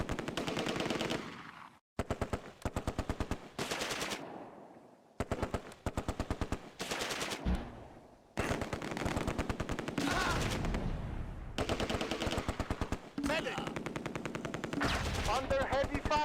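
Sustained machine gun fire in the Close Combat World War II game, bursts of rapid shots crackling almost continuously with brief gaps, loud and close, layered with more distant gunfire.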